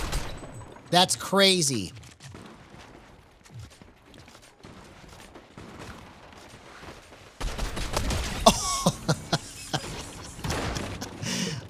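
Hunting rifle shots ring out in a video game as sharp, separate bangs, heard near and loud, with a player talking over some of them.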